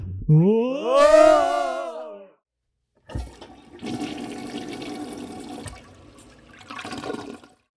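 A toilet flushes during a bathroom break, a loud close rush and gurgle of water that drains away, following a drawn-out groaning vocal sound and a short silence.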